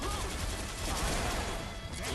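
A grenade blast in the fighting game DNF Duel, heard as a dense, continuous burst of explosive crackle and booming noise that fills the whole clip, with no talk over it.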